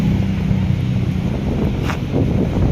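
Gusty wind buffets the microphone at Manila Baywalk Dolomite Beach on an overcast day, with a continuous low roar and the rush of fairly strong waves breaking along the shore.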